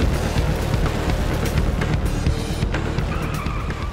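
A dragster accelerates hard, producing a loud, continuous, raw roar with screeching tyre noise, sustained close up for several seconds.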